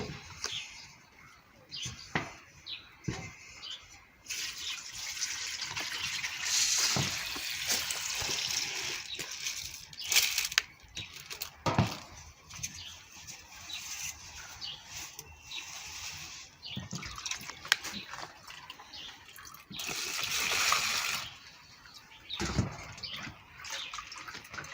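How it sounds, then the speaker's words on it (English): Soaked fodder grain for chickens is poured into a fabric sieve like those used for making pap, with water splashing and trickling in bursts, sometimes louder gushes, then quieter dripping between pours. "After 24 hours, you're just going to sieve it, put it into a fabric like this that they use in making pap"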